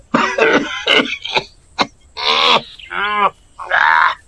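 A feverish person with a cold coughs heavily, giving several harsh, rasping coughs and throat-clearing bursts separated by short pauses, loud and close.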